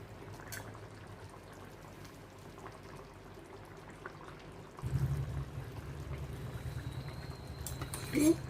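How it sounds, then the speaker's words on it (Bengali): Hot water poured into a mixer jar, a low rushing gurgle that starts abruptly partway through and keeps going to the end, close, after a quiet stretch of faint room noise. "মিক্সিতে গরম জল দিয়ে দিলাম"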